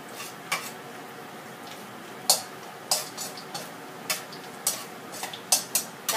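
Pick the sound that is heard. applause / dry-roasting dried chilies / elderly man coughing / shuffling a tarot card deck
dry-roasting dried chilies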